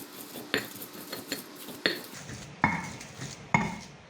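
Pecel spice paste pounded in a mortar, with a series of sharp knocks and scraping grinds at irregular intervals, close and fairly quiet.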